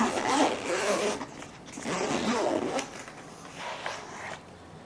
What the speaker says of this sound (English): Zip her up.